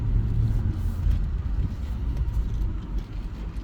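A 2006 Jaguar XK cruises in automatic drive, its engine and road noise a steady low rumble heard from inside the cabin, smooth and continuous with no shifts standing out and nobody talking.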